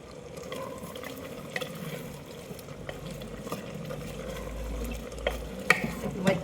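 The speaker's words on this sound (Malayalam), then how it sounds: "നന്നായി ഇളക്കാം." A duck roast with fried onions being stirred in a pan, with soft scraping and light utensil clinks over a faint, steady sizzle, quiet and close.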